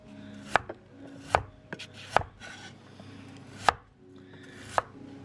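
A knife slices firm, partly frozen red tuna thinly for carpaccio, about six sharp cuts with clacks on the board at an irregular pace, close and clear, with no voices.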